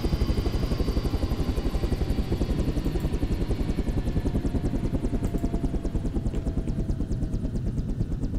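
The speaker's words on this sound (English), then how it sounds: "It's helicopters." Helicopters fly overhead in a video game, a loud, steady rotor chop with fast regular pulsing that holds throughout with no talk over it.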